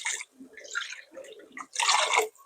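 Water poured into pancit palabok sauce in a pan makes a close splashing, trickling sound in a few uneven bursts, the loudest pour at the end, with no voices.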